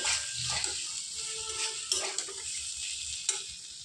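Potatoes, pointed gourd and soybean chunks stir-fried with spices in a pan, a steady close sizzle broken by a few sharp spatula scrapes and clacks, with no one speaking.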